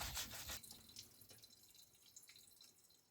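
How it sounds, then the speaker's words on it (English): Water runs and drips while fresh bamboo shoots (takenoko) are rinsed and washed, a louder splash of tap water at the start fading to soft, scattered drips and trickles, heard alone without talk. "First, wash takenoko with the water."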